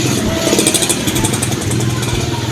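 A motorcycle engine runs steadily and loudly up close, its rumble continuous and even throughout with no pauses.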